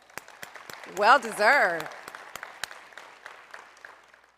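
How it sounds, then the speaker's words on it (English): Audience applause at an awards luncheon, a light scattered clapping of separate hand claps running through the whole stretch, with a voice speaking briefly over it early on. "All right, another round of applause."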